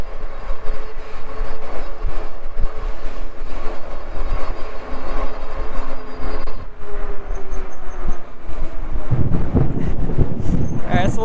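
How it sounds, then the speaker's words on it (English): Wind buffeting the microphone while riding a Lectric XP ebike up a hill, a loud continuous roaring rumble with gusty swells throughout and harder bumps and rattles near the end. "it's a little bit windy"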